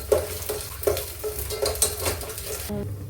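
Sliced onions fry in a pan as a spoon stirs them, giving a steady close sizzle with regular scraping strokes for about three seconds.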